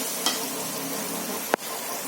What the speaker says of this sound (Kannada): ಮಂಡಾಳ ಒಗ್ಗರಣೆ ಮಾಡ್ತಾರೆ.